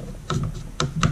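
An M1A/M14 rifle magazine being seated and locked into the rifle, giving a few sharp metallic clicks and clunks close up, with no talking.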